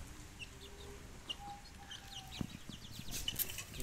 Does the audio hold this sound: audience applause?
no